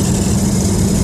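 Motorcycle engine at highway speed around 120 km/h, a loud, steady low drone with constant rumble and broadband wind-like hiss throughout, no voices.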